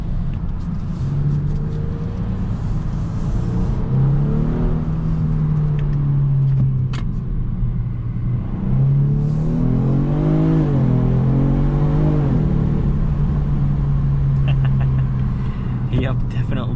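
Engine of a 2022 Genesis G70 Sport Advanced heard through a partly open window while driving, a steady low drone that rises and falls with revs, under someone talking throughout.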